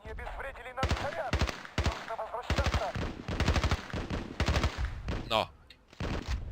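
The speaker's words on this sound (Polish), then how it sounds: "Palę w kolesia i nic" Rapid, loud automatic gunfire in Battlefield Play4Free, fired in close bursts of repeated shots with short pauses between them and a brief higher sound near the end.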